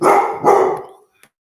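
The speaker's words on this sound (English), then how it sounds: "if he barking, somebody complain about the barking" A dog barks twice at close range, loud and sharp, with the second bark trailing off into silence and a faint click after.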